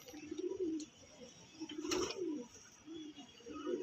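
Pigeons coo in several separate rounded phrases, moderately near, with a brief sharp rustle or flap in the middle and soft background noise between calls.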